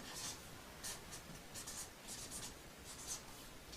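A marker or chalk writes on a board in short scratchy strokes, faint and close, with a low steady room hum beneath.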